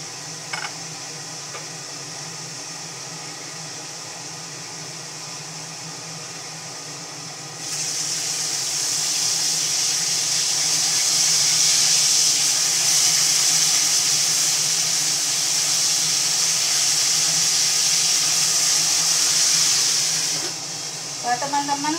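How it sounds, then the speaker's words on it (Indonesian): Fish frying in hot oil in a home kitchen, a steady loud sizzling hiss that swells partway through and holds, with no talk over it. "kalau goreng ikan itu usahakan ditutup teman ya"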